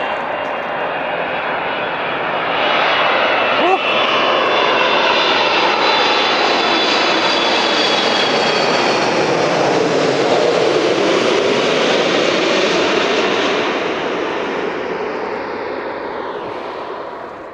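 An airplane passes overhead, its engine roar swelling from a distant rumble to a loud, sustained drone over several seconds before slowly fading away, heard alone without talking.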